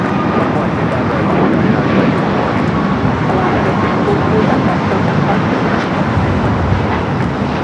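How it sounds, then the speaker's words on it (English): A WestJet-operated Sunwing Boeing 737 roars steadily past at LAX, a loud, close, continuous jet engine rumble with no letup. "This is a WestJet plane. Sunwing."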